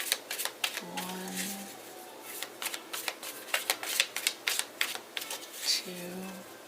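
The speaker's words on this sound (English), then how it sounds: "we're going to do 3 shuffles after this one" Tarot cards being shuffled by hand in a quiet room, giving a steady run of soft riffling flutters and light taps, with a faint voice briefly murmuring at the start and end.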